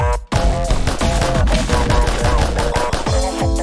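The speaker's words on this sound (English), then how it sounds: "Oh, here come the gunshots again." Rapid bursts of video-game gunfire from Friday Night Funkin' D-Sides, sharp repeated shots in quick succession layered over driving electronic music, loud and close.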